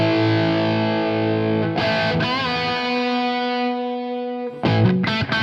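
A guitar amp tone through the Two notes Codex enhancer effect rings out as sustained, thick distorted chords that shift pitch partway, then a few brighter, choppier strums near the end.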